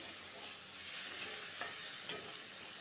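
Spices sizzling steadily in a small amount of oil for a thin rohu fish curry, a soft, even frying hiss with a few light stirring clicks.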